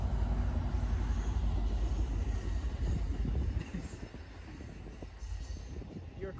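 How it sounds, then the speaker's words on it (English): A train rumbles past close by with a heavy, low roar that eases off partway through and continues more quietly. "my train."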